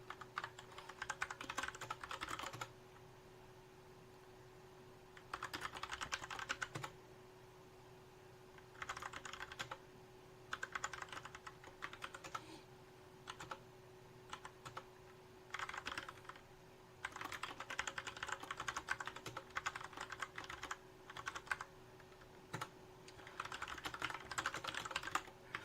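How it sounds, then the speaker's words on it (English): Bursts of quick typing clatter on a computer keyboard, near and distinct, arriving in irregular runs of several seconds separated by short pauses over a low, steady electrical hum. "I know it's exciting to just hear me typing away"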